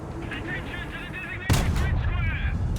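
A single loud tank cannon shot booms out midway in the War Thunder tank game, cutting in sharply over a steady engine rumble and lingering as a broad roar.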